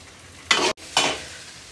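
Pepper powder being stirred into food in a hot pan, heard as two short scraping sizzles with a brief silent gap between them, close and fairly clear against a quiet background.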